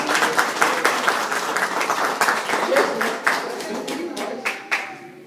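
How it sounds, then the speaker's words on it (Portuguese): A church congregation claps steadily in applause, a dense mass of many hands that holds fairly even before tapering off at the end. "Pode bater uma salva de palmas para ela."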